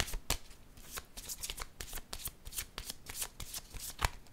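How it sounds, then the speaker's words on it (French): Tarot cards shuffled and drawn, a dense, rapid run of crisp flicks and slaps of card stock, close and steady throughout with no talk. "Je vais piger une autre carte."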